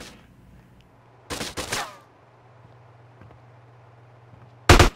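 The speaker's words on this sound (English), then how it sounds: "I was wondering where the hell those bullets were coming from." Gunfire in GTA San Andreas: two short bursts of shots early on, a quiet stretch with a low steady hum, then another sharp loud burst at the very end.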